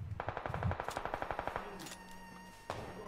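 Rapid automatic gunfire in the battle-royale game PUBG Lite, a fast burst of about a dozen loud shots in steady rhythm, followed by a brief pause and then one more sharp shot.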